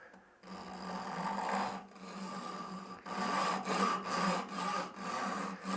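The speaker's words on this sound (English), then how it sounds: "Actually, I'm going to use my Japanese back saw here." A Japanese back saw with fine teeth cuts wood in steady rasping strokes, close and moderately loud, with short pauses between runs of strokes.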